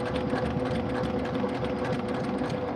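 A sewing machine runs at a slow, even pace while a quilt is stitched, its steady mechanical whir close and moderately quiet with no speech over it.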